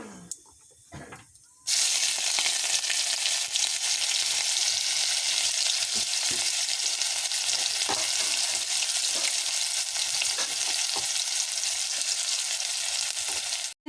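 Chopped onion hits hot oil already seasoned with nigella seeds, bursting into a loud, steady sizzle after a quiet start with a few faint clinks, then crackling on without a break for over ten seconds.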